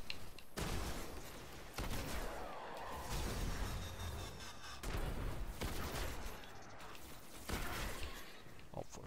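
Bursts of gunfire hit the player in a video game. Several loud, dense volleys come close together, with crashing impacts.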